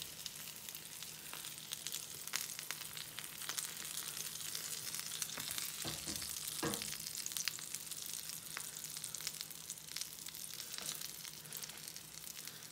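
A veggie egg white omelette cooking in a pan gives off a steady, faint sizzle and fry that holds evenly throughout, with a few soft scrapes near the middle.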